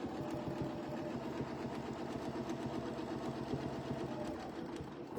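A sewing machine stitches quilt pieces for a Breath of Spring quilt, with the pieces sewn side to side. Its steady, even mechanical whir runs without a break for the whole stretch and is heard up close, with no talking.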